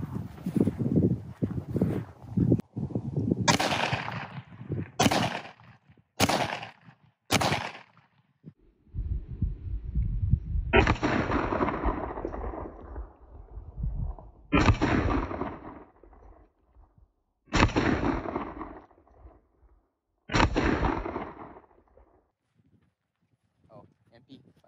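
Gunshots fired at a painted target ring out as sharp, loud cracks: a quick run of four, then four more heavily spaced shots, each with a ringing decay, while voices talk between them.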